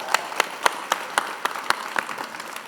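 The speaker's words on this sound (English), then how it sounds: "Another round of applause, everyone." An audience at the ASCAP Experience 2023 music-industry conference gives a thin round of applause, with a few separate claps standing out clearly before it fades.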